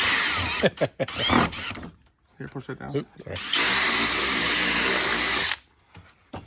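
A power drill bores through a slot in a plastic rear fender extension on a Polaris RZR, a loud steady whine of about two seconds, with short speech and tool handling before it.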